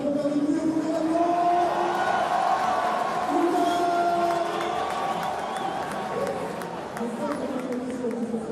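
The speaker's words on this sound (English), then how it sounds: "Est-ce que le premier maintenant, on peut avoir des applaudissements? Est-ce qu'on peut faire du bruit au bout de l'avion?" A large audience at the Ballon d'Or ceremony cheers and applauds steadily throughout, a dense continuous roar of clapping and voices, with an amplified host speaking over the crowd.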